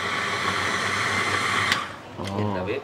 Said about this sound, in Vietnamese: Bây giờ em sẽ xay cho nó trộn cho nó đều lên á